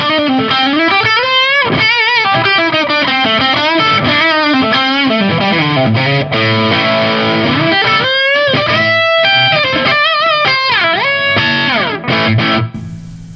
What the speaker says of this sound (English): it does have some nice, like, kind of lower gain distortion to it